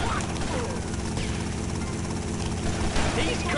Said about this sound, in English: blow that chopper!